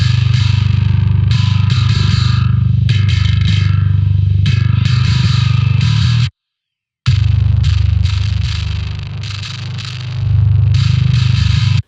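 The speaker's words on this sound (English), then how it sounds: "So once you select your crossover point, this is basically where your bass tone will be split." A heavily distorted modern metal bass guitar tone split at a crossover point plays loud chugging riffs, breaking off for a brief silence before resuming, with no talking.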